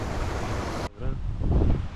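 Strong wind on a mountain trail in Bulgaria roars in a dense, loud rush against the microphone, cuts off abruptly, then picks up again in rough gusts.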